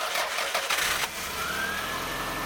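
A 1990 Toyota Camry engine turns over and catches, then settles into a steady, even idle, close by and fairly loud.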